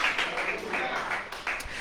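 A church congregation breaks into steady, broadband applause during an evening worship service, clapping continuing evenly throughout with some voices mixed in.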